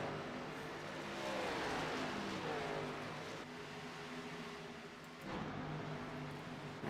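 NASCAR Xfinity Series race cars lapping the track at Dover in a sim race, a steady roar of engines with rising and falling revs as cars pass, moderately distant and continuous.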